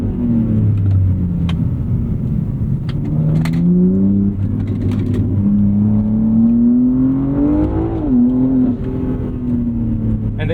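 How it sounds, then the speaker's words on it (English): 2025 BMW G80 M3 Competition xDrive with a ZF eight-speed automatic pulls hard, its engine note climbing in long rising sweeps with quick shift breaks between them, loud and continuous from inside the car. "It puts the power down so effortlessly."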